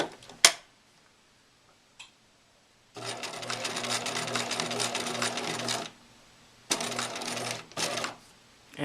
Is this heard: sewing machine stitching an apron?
yes